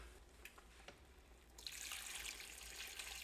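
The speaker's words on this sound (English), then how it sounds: "and now some water." Water pours from a jug into a cooking pot holding potatoes and carrots for goulash, a faint splashing that swells into a steady rushing pour after a few soft knocks.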